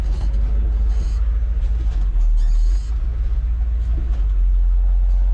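A 1969 ranch truck with a newly fitted brake booster drives on a brake test, its engine giving a steady, close, heavy low rumble that swells slightly at times, with no talk.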